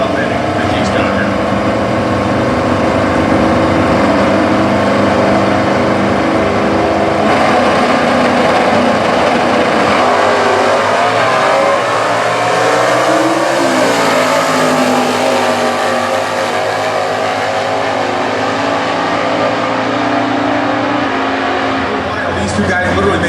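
A 1970 Challenger and a 1968 Camaro with a 327 small block, stock eliminator drag cars racing side by side, loud sustained engine howl that climbs in pitch as they run, with an announcer talking throughout.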